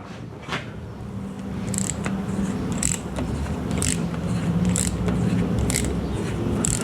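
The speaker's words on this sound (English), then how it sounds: "I'll use a ratchet on it" Ratchet wrench working a fastener on the top end of a Yamaha 360 flat-track engine during disassembly, giving repeated short clicking and scraping bursts over a steady low background hum.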